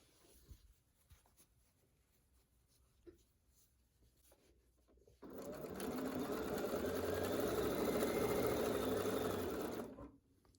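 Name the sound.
sewing machine stitching binding onto a quilt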